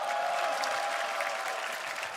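A crowd at a Dota 2 esports championship playoff arena applauds in a steady, even wash of clapping and cheering that holds for a couple of seconds.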